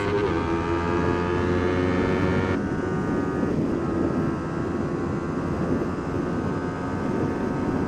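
A Ninja 400 and a Yamaha R3 race flat out in sixth gear at redline, producing a loud continuous high-pitched engine drone with steady whine, heard close and alone without talk.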